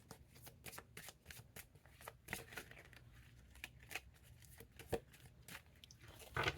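Tarot cards being shuffled, a rapid run of crisp papery riffles and slaps continuing throughout, close and soft, with no talking over them.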